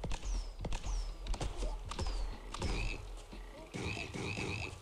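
Frogs croak repeatedly in the video game BattleBlock Theater, clustered rhythmic croaks mixed with game sound effects and music, fairly close and loud.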